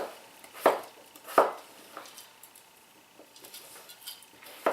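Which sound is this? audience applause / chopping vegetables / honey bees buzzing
chopping vegetables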